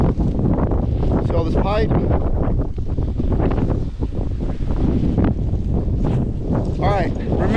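Strong wind buffets a microphone outdoors during a dust advisory, a constant loud roar under someone speaking.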